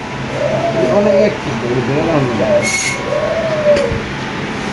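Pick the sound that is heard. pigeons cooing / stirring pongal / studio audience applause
pigeons cooing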